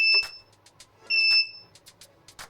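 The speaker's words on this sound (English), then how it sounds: "The number says 0 and 1 beep, which means the button has been erased" DC Blue Advanced garage door opener giving a single short electronic beep to confirm a remote button was erased, a bright tone heard alongside a second beep-like burst amid faint clicks and room noise.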